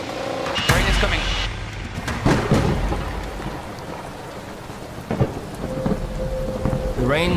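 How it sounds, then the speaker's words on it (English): Steady heavy rain pours down with several loud thunder cracks and rumbles breaking through, close and powerful, over a continuous wash of rainfall. "Rain is coming."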